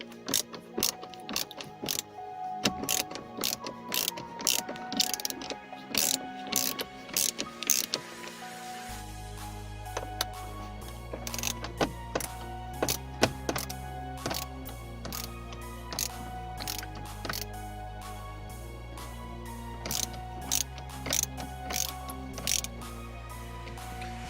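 A Torx screwdriver, T5 or T10, backs screws out with repeated sharp ratcheting clicks and small mechanical creaks, steady through the stretch and partly under tonal background music with a bass line.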